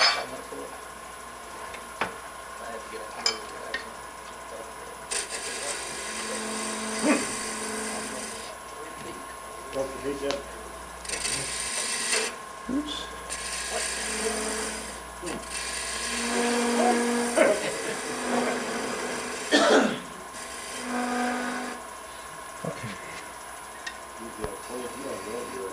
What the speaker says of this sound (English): I've got to drill a hole in there, an 1/8 inch hole.